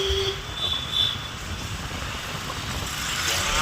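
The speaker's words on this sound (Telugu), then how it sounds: "అటు సైడ్ ట్రైన్ వెళ్తుంది." A steady low rumble of a train passing at a distance, continuous and fairly faint, with a faint high whine above it.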